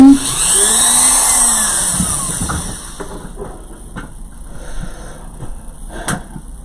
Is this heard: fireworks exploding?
no